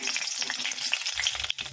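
Slit green chillies crackle and sizzle in hot oil, a dense, close spitting hiss over a brief stretch, with low scraping thumps of stirring toward the end.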